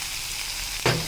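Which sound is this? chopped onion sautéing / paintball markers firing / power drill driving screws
chopped onion sautéing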